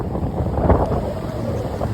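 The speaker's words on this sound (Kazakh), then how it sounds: "Бүгін қатты жел соғып тұр" Strong wind buffets a beach in Egypt, a continuous loud rumbling roar with heavy low-end gusting against the microphone and no talking.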